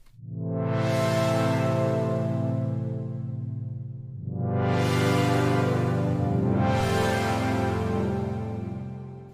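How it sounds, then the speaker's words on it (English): A basic synth pad from a Mini Poly swells in three long sustained chords, each opening with a bright rising filter sweep over a warm steady low body, played alone and fairly loud. "the next sound we're making is our basic pad sound"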